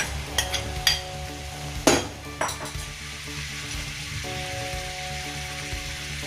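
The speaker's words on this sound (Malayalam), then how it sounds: "ഇനി നമുക്ക് ഇതിലേക്ക് നമ്മൾ എടുത്തു വെച്ചിരുന്ന പച്ചമുളക് ചുവന്നുള്ളി, തക്കാളി," Green chillies, shallots and tomato go into a hot frying pan for an egg roast, setting off a steady sizzle with a few sharp clinks and scrapes of a spoon stirring against the pan, close and loud with no talking.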